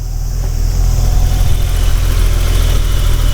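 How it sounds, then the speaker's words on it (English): A 1991 BMW E30 325i Touring's 2.5-liter inline-six with solid lifters needing adjustment idles steadily and loudly up close, a constant throb with a light ticking layered on top. "It has the sound of lifters that need to be adjusted because this is a solid lifter engine"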